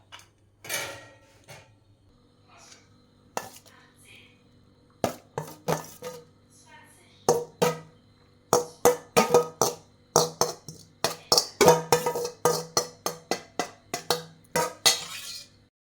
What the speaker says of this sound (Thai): เดี๋ยวหั่นผักใส่ก่อน